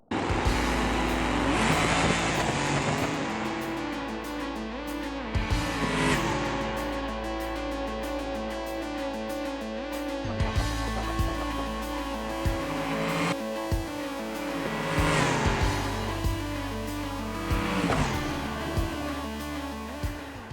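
A Moonhawk drag car in the BeamNG driving game makes a run down the strip at nearly 200 mph, a loud sustained engine roar with shifting tones and gear changes throughout, close and continuous.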